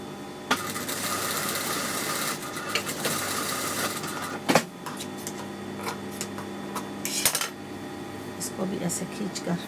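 A sewing machine stitches trouser fabric for a kameez outfit in bursts of rapid mechanical clatter, stopping and starting, with a nearby voice talking over much of it.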